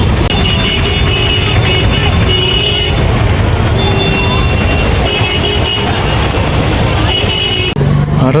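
Dense road traffic of cars and buses surrounds pedestrians on the Simhachalam Giri Pradakshina route, a steady close rumble of engines and tyres that never lets up, with people's voices mixed in throughout.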